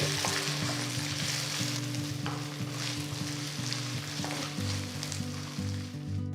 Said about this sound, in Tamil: ஒரு டீஸ்பூன் இஞ்சி பூண்டு விழுது சேர்த்து கலந்து விட்டு